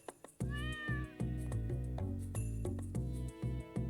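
A cat in the Stardew Valley video game meows several times, close and clear, over looping game music with steady plucked notes.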